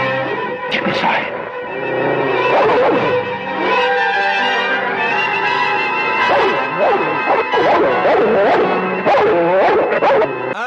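A dog in a television show barks, yips and whimpers repeatedly, loud and close, in an excited, continuous sequence of barks and whines lasting several seconds.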